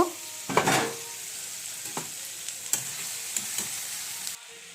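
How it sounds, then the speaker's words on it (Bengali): Soybean chunks and potatoes sizzle in hot spiced oil in a pan, a steady close frying hiss broken by a loud clatter as they go in and then several scraping stirs, with no talking. "এখন আমি এর মধ্যে এই সোয়াবিন আর আলুটা দিয়ে দিব, দিয়ে আরেকটু কষিয়ে নিব।"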